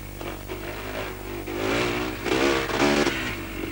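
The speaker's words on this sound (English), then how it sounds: "You can hear the motor, you can really make it pull" A car engine revs hard while driving over a rutted track, rising and falling in pitch with two strong surges of acceleration. The engine sound is close and loud throughout, with rumbling road noise underneath.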